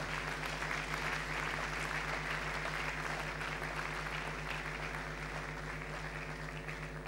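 A congregation applauds in praise at a church gathering in the Republic of Congo, a loud, dense, continuous wash of clapping over a steady low hum, sustained throughout without speech.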